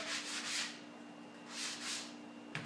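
Fine sandpaper scuff-sands polyurethane-coated maple wood in slow, soft back-and-forth strokes, close and quiet, with a steady faint hum underneath.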